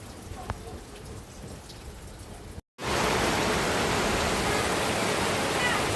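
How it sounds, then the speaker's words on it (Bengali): Steady rain pours down in a village, a dense close hiss of drops. After a brief dropout it returns noticeably louder and heavier, with no one talking. "এখন বৃষ্টি হচ্ছে"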